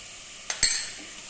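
Ground fennel seed and black pepper are stirred in a pan, heard as two sharp metallic spoon clinks followed by a soft, brief sizzle in an otherwise quiet kitchen.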